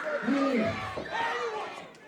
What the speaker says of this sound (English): But boy, this crowd is hot.